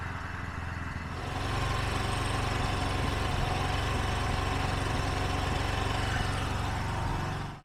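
A Bajaj Boxer motorcycle engine fitted with a vacuum carburetor idles unsteadily, a close, loud single-cylinder putter that rises about a second in and runs on with slight wavering before cutting at the end.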